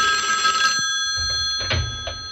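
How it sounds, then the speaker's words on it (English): An old telephone bell rings in a sharp burst, then short fainter rings follow, with no one speaking. "The phone is ringing."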